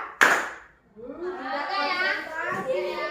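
A single sharp hand clap from a classroom clapping game, followed right away by children's voices speaking and chanting.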